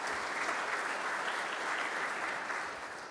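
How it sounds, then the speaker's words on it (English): Steady applause fills a church service after a call to celebrate a new vision, a dense wash of clapping from the congregation that holds evenly and then eases off slightly at the end. "Give yourselves a round of applause"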